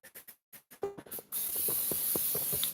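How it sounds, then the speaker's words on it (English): Cooking spray misted into a skillet for scrambling eggs: a short, steady, bright hiss lasting over a second, preceded by a few light clicks and taps. "I'm gonna put a little bit of spray"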